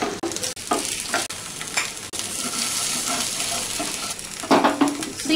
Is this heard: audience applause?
no